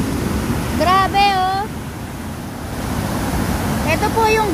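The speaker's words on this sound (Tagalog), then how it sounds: "Ito po yung gate ng Bustos Dam na nagtatakawala ng tubig." Water rushes steadily through the gate of Bustos Dam, a broad continuous roar under rain and wind, with a voice speaking briefly over it near the start and again at the end.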